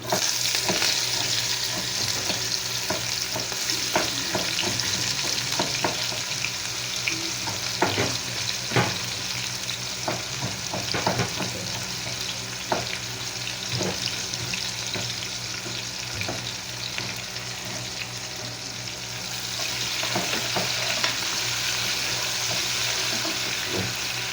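Onions frying in hot oil for a mixed vegetable pulao, a steady close sizzle with repeated stirring clatters and scrapes throughout, the hiss easing slightly midway then swelling again near the end; no talking.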